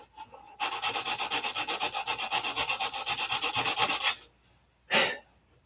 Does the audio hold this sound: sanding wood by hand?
yes